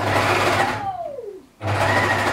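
A sewing machine runs steadily, stitching a kimono seam, then stops briefly and starts again at the same rapid, even buzz, close and loud with no talk.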